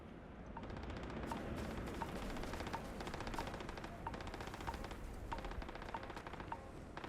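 Rapid automatic gunfire at target practice in the Starfield video game, with repeated fast bursts of shots at a moderate distance over a dense background of game ambience.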